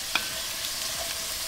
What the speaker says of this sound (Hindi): पटेटोस को बीच बीच में हम स्टर करते रहेंगे. हर साइड से हम इसको गोल्डन ब्राउन होने तक पकाएंगे.